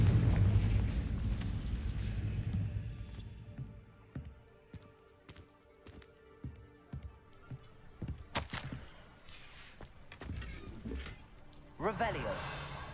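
The Confringo explosion spell goes off in Hogwarts Legacy with a loud, rumbling burst that slowly fades, followed by scattered cracks and pops, a second burst near the end, and a voice speaking.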